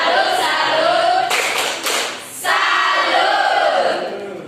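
A classroom group gives a welcome cheer by clapping in rhythm. The loud, close claps form a rapid patterned burst in the middle, with steady background noise around it.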